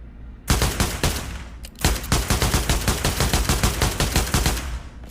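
An AK-47 fires in the VR game Pavlov: a single loud shot, a short pause, then a long rapid burst of automatic fire in an even staccato rhythm, close and sharp, ending abruptly.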